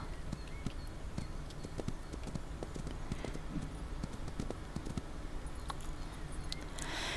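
A horse's hooves clip-clop in a steady trotting rhythm during a jump over an obstacle in the Ranch of Rivershine video game, close and continuous, with a brighter burst near the end.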